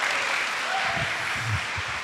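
Steady applause fills a church congregation, a dense continuous clatter of clapping hands held at even loudness throughout, with no speech over it.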